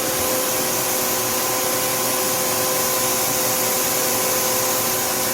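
A 2011 Tsugami S206 CNC Swiss lathe runs its back tools with a constant, loud, broadband whirring hiss. Steady high-pitched tonal whines sit on top, with no pauses and no voices.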